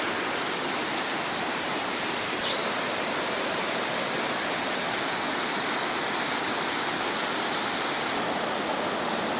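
A waterfall rushes somewhere below a forest trail, making a steady, even roar of broadband water noise that neither swells nor fades and has no voices over it.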